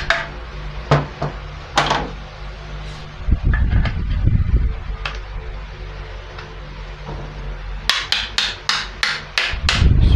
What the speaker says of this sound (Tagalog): Ito medyo masikip. So konting pukpok.